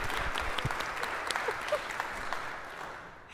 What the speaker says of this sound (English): We should clap again for ice cream.